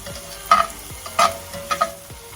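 Ground cumin tipped into a pan of chana masala frying on the stove, bringing a soft background sizzle with a few brief scraping stir strokes spaced through the moment.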